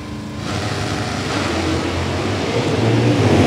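A 1969 Camaro and a 1968 Camaro launch side by side at a drag strip, their V8 engines roaring and building in a loud, rising rumble.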